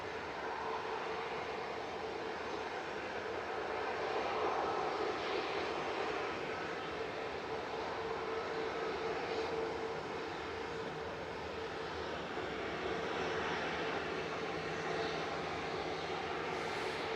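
An Airbus A321 airliner lines up on the runway at Manchester Airport and begins its takeoff for Faro, a steady, fairly distant engine roar that builds gradually and stays continuous, with no voices.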